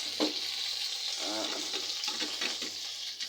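Pieces of goose, soaked in tomato sauce and other seasonings, sizzle steadily in a hot pan at close range, with brief stirring scrapes and faint clatter over the continuous frying hiss.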